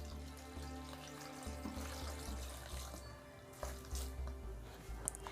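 Water is poured from a vessel into a pressure cooker holding chopped spinach and dal, giving a soft, close, steady splashing trickle with a few small clinks and no talk.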